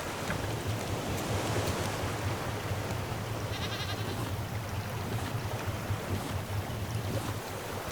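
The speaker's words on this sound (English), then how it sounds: "It's raining and waves are going crazy." In the survival game Raft, waves churn and wind blows across open ocean during rain, a steady, dense wash with a low hum underneath, with no one speaking.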